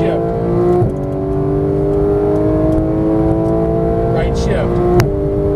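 Porsche 911 GT3 (991) engine pulls hard after an upshift, its steady rising howl climbing in pitch with a brief dip at another gear change near the end; a voice may be faintly present beneath the engine.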